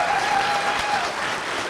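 A town hall audience claps for police officers, a brief burst of continuous hand-clapping from a room full of people, fairly loud and even throughout with no voices over it.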